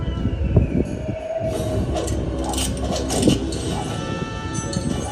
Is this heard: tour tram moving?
yes